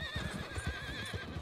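A horse in Red Dead Online lets out a loud, wavering whinny that carries through the whole moment, with hoof clip-clop thudding rhythmically underneath and no talk.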